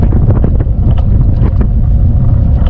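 Steady, loud wind buffets the microphone in a continuous roar, with no talking.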